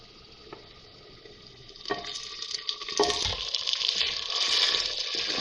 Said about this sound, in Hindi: और अब ये मैं साग डाल रही हूँ इसमें।